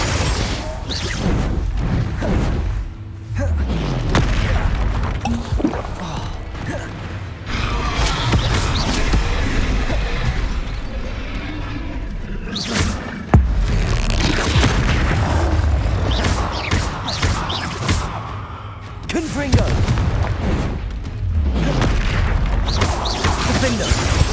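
Confringo fire-spell explosions in the Hogwarts Legacy video game, Percival Rackham's Trial: loud, repeated booming blasts and crashes with whooshes, packed densely across the whole stretch, with a voice calling out spell names in between.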